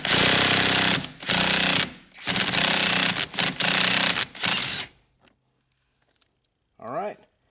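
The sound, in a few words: impact wrench breaking a steering column nut free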